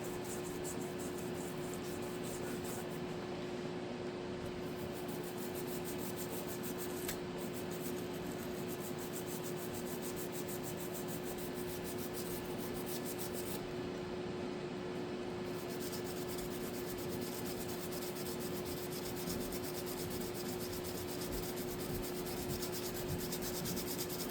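A brush scrubbing a Wii remote, a close, quiet, steady rubbing scratch that continues evenly throughout, alone with no talking.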